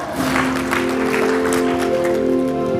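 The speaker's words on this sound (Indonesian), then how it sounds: "Tepuk tangan buat Tuhan, amin." Church congregation applauding during a sermon, a dense, sustained clapping that fills the space for a few seconds, with a steady hum of an organ or keyboard underneath.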